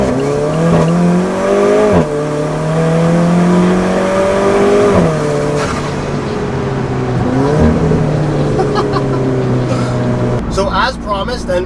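An Alfa Romeo 4C sports car drives close by, its engine revving up and down through several gears with steady rising tones. A voice talks over it.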